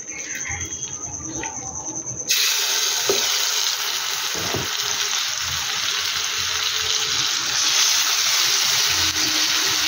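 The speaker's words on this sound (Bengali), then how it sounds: "এবার এই চিকেনটাকে আমি রান্না করে নেব।" Chicken pieces drop into hot mustard oil and butter and start frying with a sudden loud, crackling sizzle that carries on steadily to the end, with no voices.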